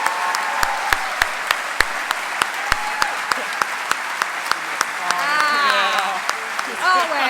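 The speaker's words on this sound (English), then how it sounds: "Let's give a round of applause to our new Hall of Fame inductees." Audience applause for new Hall of Fame inductees at a Make-A-Wish Michigan awards ceremony: a steady wash of clapping with sharp individual claps, swelling near the end where voices and cheers rise over it.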